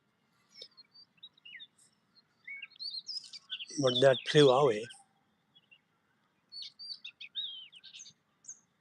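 Myna bird calls out in nature, scattered faint chirps and whistles at a distance, with a brief spoken voice over the middle.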